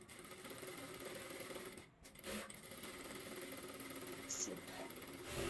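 A sewing machine stitches a readymade broad neck on a garment, running as a steady mechanical whir that pauses briefly before resuming, fairly quiet throughout.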